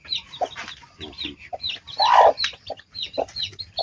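Chickens cluck in short, irregular bursts close by on a farm, with one louder squawk in the middle; a person says a word briefly.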